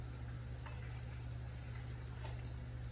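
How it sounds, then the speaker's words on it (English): A faint, steady sizzle of batter frying gently in a pan, with a constant low hum underneath. "shouldn't sizzle very much if you want that yellow color"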